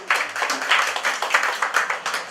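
A church congregation applauds in acclamation during a couple's wedding blessing service: a steady, dense wash of many hands clapping, fairly close and continuous for a couple of seconds, with no voices over it.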